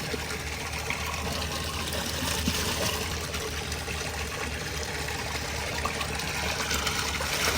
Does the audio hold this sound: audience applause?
no